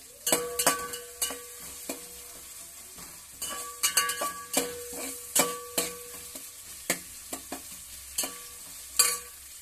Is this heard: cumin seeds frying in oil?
yes